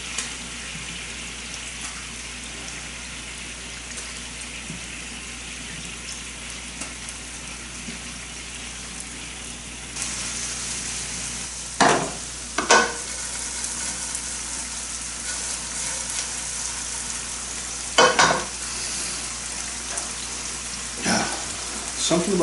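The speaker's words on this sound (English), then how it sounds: "Now we're going to put some smelt into the renderings" Smelt frying in hot fat renderings, a steady broadband sizzle that stays close and fairly loud throughout, with a few sharp pops and spatters toward the end.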